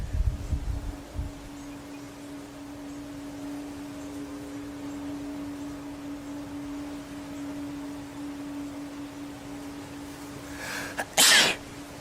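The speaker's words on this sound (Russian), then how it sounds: "Вот видите, чихаю на солнце." A single sharp sneeze, set off by looking at bright sunlight, bursts loud and close near the end after a long stretch of quiet room hum with a faint steady tone.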